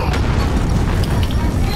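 A grenade goes off in a multiplayer shooter, a loud, rumbling boom that fills the whole stretch with heavy low-end roar and scattered debris crackle, voices talking over it.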